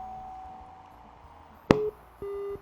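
A telephone line cuts off during a radio call-in, with a sharp click followed by steady tones that stop briefly and then resume over a quiet studio background.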